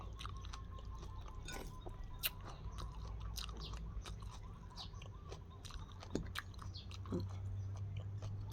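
Someone eats pork noodle soup, with soft, close chewing and a few faint crunchy bites spread over a quiet background.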